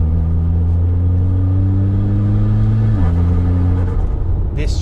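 A Mitsubishi Evo X with a rebuilt SST dual-clutch gearbox pulls hard with a steady, droning engine note, then makes a quick, clean shift around the three-second mark and keeps pulling; the sound is moderately loud and close.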